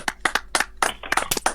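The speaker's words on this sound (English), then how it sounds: "Round of applause." Several quick bursts of hand clapping, a short round of applause from a few people, close and fairly loud.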